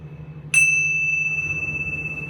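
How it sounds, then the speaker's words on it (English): A single hand chime is struck once, ringing with a bright, clear metallic tone that sustains and slowly fades over a steady low background hum. "Hand chimes."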